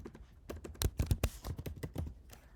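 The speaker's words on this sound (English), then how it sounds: "And I'm going to just type in" Computer keyboard keys being typed in a quiet room, a quick run of close, crisp clicks with a few louder taps in the middle, no voices.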